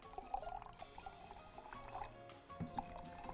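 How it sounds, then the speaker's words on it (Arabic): Hot and lukewarm water being poured and mixed in a kitchen while making tortilla dough, with a soft trickling splash that comes and goes in short bursts, quiet and close. "انا هنا مسخنه ميه قوي وهنا ميه فاتره، خليني اظبطهم الاول"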